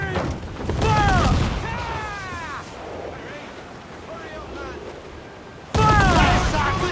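Ship cannons firing in a naval battle in Assassin's Creed IV: Black Flag, loud booming volleys at the start and again near the end over wind and sea noise, with crew voices shouting in between.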